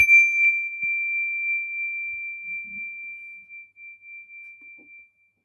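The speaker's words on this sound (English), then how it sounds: "when you detect the vibrations of my bell, allow your eyelids to float open" A meditation bell rings once with a single clear, sustained tone that slowly decays over about five seconds, heard alone in a quiet room.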